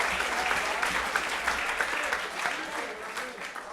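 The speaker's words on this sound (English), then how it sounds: "please hold your applause to the end" A crowd at an evening assembly applauds steadily, a dense continuous wash of clapping at even loudness throughout.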